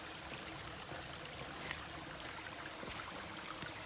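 Water flows through a creek bed on a wooded hiking trail in Cades Cove, a soft, steady trickle and rush with no other sounds over it.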